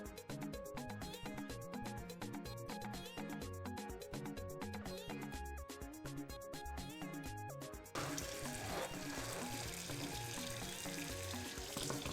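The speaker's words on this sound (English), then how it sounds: "After peeling the yam, you rinse it just like so." Peeled yam is rinsed under running water, a steady rushing splash that begins partway through beneath ongoing background music.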